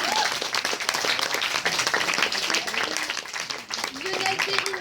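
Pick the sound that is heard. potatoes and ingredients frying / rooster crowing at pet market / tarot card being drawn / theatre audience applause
theatre audience applause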